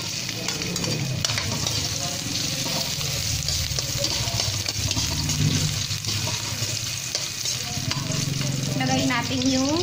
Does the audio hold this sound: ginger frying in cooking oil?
yes